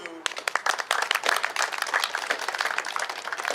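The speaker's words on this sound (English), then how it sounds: "Let's give a round of applause to" A crowd claps and cheers in a dense, continuous burst that begins abruptly after a brief pause, with voices mixed into the applause, after a Bartitsu martial arts demonstration.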